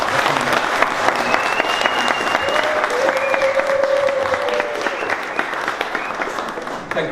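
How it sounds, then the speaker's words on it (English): An audience of Zimbabwean diaspora in the UK claps for a government minister, a thick, steady roar of applause filling the room, loud and sustained, with a faint tonal whistle or feedback drifting through the middle. "I recommend we clap again to thank you."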